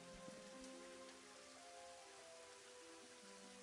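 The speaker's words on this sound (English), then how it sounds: "Okay, it's raining." Steady rain falls in the video game Daggerfall, a soft continuous patter on surfaces throughout, with a faint low hum beneath and no voices.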